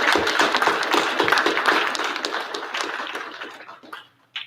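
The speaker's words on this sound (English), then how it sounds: "ask that we all give him a round of applause and congratulations on his acceptance to Yale" A room of people at a board of education meeting give a round of applause, dense steady clapping that thins out and fades toward the end.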